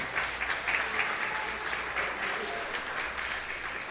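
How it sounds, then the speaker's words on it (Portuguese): A church congregation applauding together during a sermon, a full even wash of many hands clapping that holds steady throughout, with faint voices mixed into the crowd noise. "Aplauda ao Senhor Jesus"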